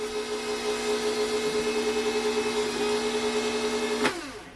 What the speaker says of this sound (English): I'm going to put that in my mixer. And I'm just going to let it go.